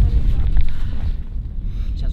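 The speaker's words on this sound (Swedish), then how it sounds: "Det blåser rejält alltså." Strong wind buffets the microphone in a steady low rumble during a snowy winter walk out to an ice-bathing hole, loud and continuous, easing slightly toward the end.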